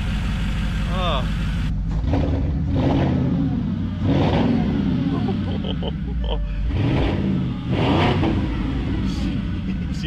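Porsche Cayenne S V8, freshly fitted with a replacement engine and running without its exhaust, revs repeatedly in loud, rising bursts with idle between, while people talk nearby.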